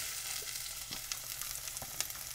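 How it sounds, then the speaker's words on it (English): Onions go into hot oil in a pan for rice with sweet peppers, giving a quiet, steady sizzle with a few faint crackles and taps. "Swirl that around, and then in go my onions"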